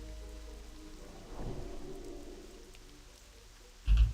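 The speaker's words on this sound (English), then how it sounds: "I don't know if I've ever seen it rain in Desolus." Rainfall in the Desolace zone of World of Warcraft Classic, a soft steady patter with a faint low rumble swelling midway and a brief louder thump near the end, no talking.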